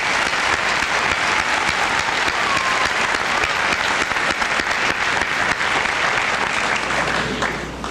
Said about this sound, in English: Let's give the underclassmen a nice round of applause